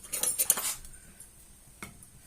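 A spoon clinks and scrapes against a pot of boiling liquid, brief and faint. A quick burst of metallic taps is followed by quiet and one last soft knock.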